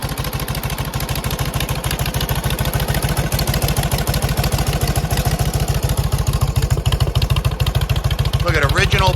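A 1948 Indian Chief motorcycle with original paint and patina idles steadily nearby, its V-twin engine giving a loud, even thumping rhythm with mechanical clatter throughout, and no voices over it.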